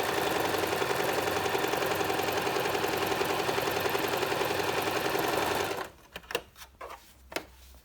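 A Bernette Sew Go 3 sewing machine stitches in a steady, loud, fast run for several seconds, then stops abruptly, leaving a few brief clicks and knocks close by.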